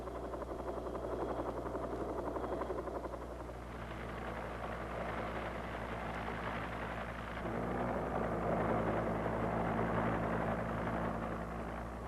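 A Cobra AH-1G armed military helicopter gives off a continuous, even engine and rotor drone that swells slightly in the latter half, with no voices.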